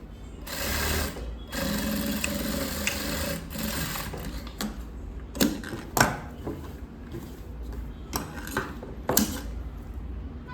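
A sewing machine stitches the lining of a chudi in a tailoring shop, running in a steady whir for several seconds, then breaking into short bursts with clicks and fabric handling in between. No one speaks.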